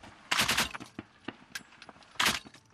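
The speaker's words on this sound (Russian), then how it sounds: "Огонь противника удалось немного подавить, и мы выбираемся из огневой зоны." Enemy gunfire in a frontline combat zone, two loud close bursts of rapid shots with scattered single cracks between them, no talk.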